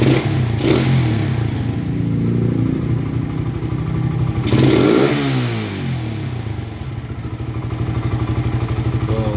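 A motorcycle engine fitted with a 28mm Keihin carburetor revs up close, blipping sharply twice before idling with a steady rattling putter.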